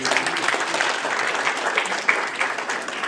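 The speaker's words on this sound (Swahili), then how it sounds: "Tupigie makofi mazuri." An audience claps in a dense, continuous burst of applause that holds steady and loud for the whole stretch.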